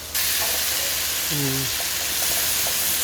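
Tomatoes are mashed and cooked in a frying pan for chicken asado, a loud continuous hiss and sizzle with a brief voice in the background.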